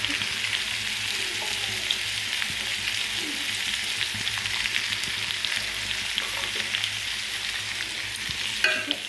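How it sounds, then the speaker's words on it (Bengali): Fish seasoned with salt and turmeric fries in hot oil, producing a steady, close, continuous sizzle with faint occasional scrapes from stirring, and no talking. "লাল লাল করে ভেজে নিচ্ছি।"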